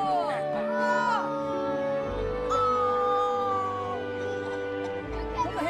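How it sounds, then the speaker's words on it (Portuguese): A dog howls and whimpers in long wavering, rising and falling cries mixed with short yips, heard close and fairly loud while people talk and react nearby. "Ai, que lindo esse cachorro!"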